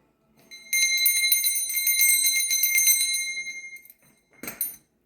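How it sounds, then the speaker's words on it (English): A bell drops onto a table and rings with a bright, jangling metallic tone for about three seconds before fading, followed by a brief softer clink near the end. "There was a bell that fell to the table first."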